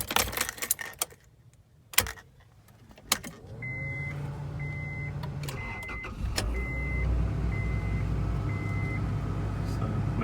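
Keys jangle close by, then an Acura Integra's engine cranks and catches; a chime beeps in a steady series while the engine idles on with a low, rising hum.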